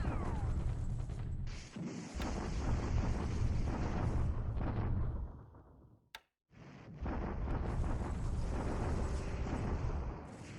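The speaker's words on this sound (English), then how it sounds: "Another bombardment at Luchao." Heavy rumbling bombardment blasts in a WWII strategy game, loud and continuous. The rumble fades to near silence around the midpoint, a sharp tick cuts through, then the rumbling resumes.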